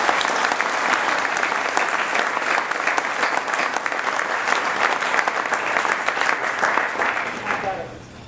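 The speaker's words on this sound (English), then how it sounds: "Let's give them a round of applause." Audience at an association meeting gives a sustained round of applause, dense and loud clapping that continues evenly before tapering off at the end.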